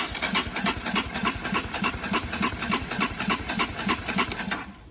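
A 2021 Honda CB125R motorcycle engine cranks over repeatedly in a fast, steady chugging rhythm without catching, stopping abruptly at the end.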